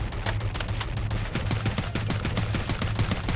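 Gunfire in the mobile shooter Free Fire crackles in rapid automatic bursts over a steady low game hum, growing denser and more rhythmic midway, loud and close without speech.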